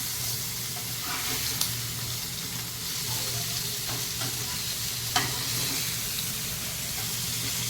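Fish fry in a hot pan with a constant, close, crackling sizzle and occasional light clinks of stirring. No one talks.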